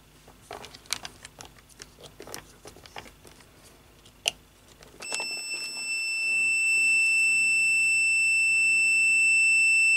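A digital multimeter beeps for continuity on its probes, a steady high electronic tone that starts about halfway through and holds without a break, following a stretch of faint clicks and handling taps.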